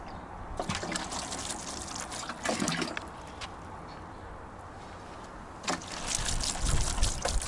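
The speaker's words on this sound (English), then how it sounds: "And sprinkle some water over the top again." Water is sprinkled over a plastic milk container at a summerhouse build: light patters and dribbles in a few separate bursts over several seconds, close by, with no speech.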